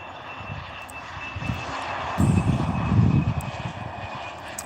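A FlySafair airliner on final approach to land at OR Tambo International Airport, its engines a steady broad roar that swells louder midway through as the plane draws nearer, with no talk over it.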